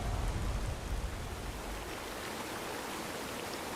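A modded game's waterfall effect roars as a dense, broadband rush of falling water, loud and steady with a heavier low rumble at the start, with no voices.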